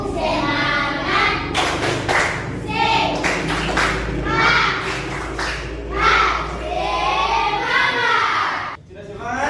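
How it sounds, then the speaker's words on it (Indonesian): A school class claps out the 'tepuk semangat' spirit clap in unison, rhythmic bursts of sharp hand claps and thumps with children's voices calling along, the pattern repeating in several loud phrases before a brief pause. "Tepuk semangat."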